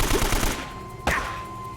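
Gunfire in the video game Uncharted: Drake's Fortune: a rapid burst of shots at the start, then a single sharp, loud report about a second in, over steady in-game ambience.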